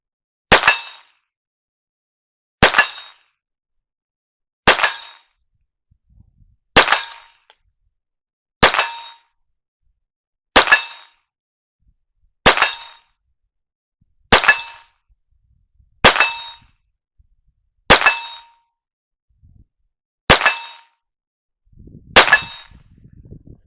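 A dedicated .22 Colt 1911 pistol fires at a metal plate target 30 yards away. Twelve sharp shots come at an even pace about two seconds apart, and each hit rings out with a bright metallic clang that fades quickly.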